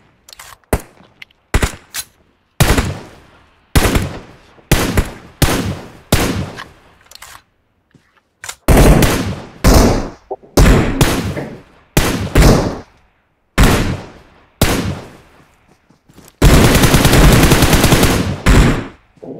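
Repeated bursts of automatic gunfire in the battle royale game PUBG, played on an iPad 9, loud and close, with short volleys separated by brief pauses and a long sustained burst near the end.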